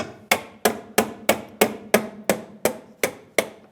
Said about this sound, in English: Taking a pry bar, I'm just going to give it a tap with a hammer